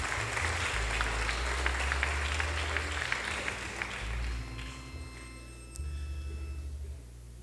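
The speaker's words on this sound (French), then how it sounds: "Sous vos applaudissements, mesdames, messieurs." Audience applause at a French-language anniversary ceremony, a steady clapping crowd that thins and fades out over several seconds, with brief talk and scattered noises toward the end.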